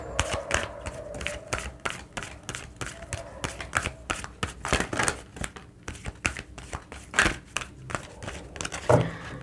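Tarot cards shuffled by hand in a quiet room, a steady run of crisp papery riffles and taps, close and moderately soft, with a faint voice at times.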